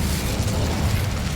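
An Incendio fire spell cast in Hogwarts Legacy, a loud rumbling burst of roaring flame that holds steady for over a second.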